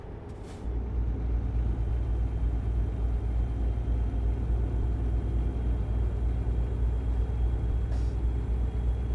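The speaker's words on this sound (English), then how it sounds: "It's actually a lot of fun in a manual truck because of the noises." A manual truck's diesel engine drones steadily from inside the cab while driving on the road, a loud continuous low rumble after a brief quieter start, with faint hiss-like bursts near the beginning and end.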